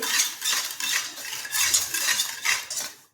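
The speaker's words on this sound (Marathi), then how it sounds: "साखर ढवळत राहायची त्यामुळे लवकर पाक होतो साखर पटकन विरघडली जाते" A utensil scrapes and stirs sugar around a pan on a gas stove, a steady run of close, rhythmic metallic scraping strokes with no voices.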